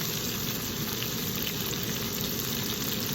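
Swordfish steak with peperoncino fries in a pan, Sicilian Messinese style, giving a dense, even sizzle that holds loud and unbroken throughout.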